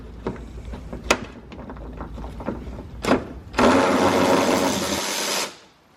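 A power tool buzzes steadily for about two seconds while backing out a number 10 bolt from the front bumper of a 2011-2013 Hyundai Sonata Hybrid, after scattered clicks and knocks of handling parts.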